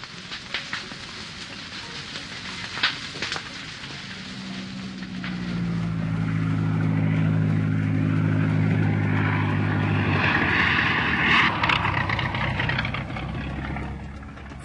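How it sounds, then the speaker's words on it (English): A propeller plane flies over the Amazon jungle, its droning engine hum rising from faint to a steady, fairly loud tone that lingers over the forest ambience. "The plane flies in men and supplies"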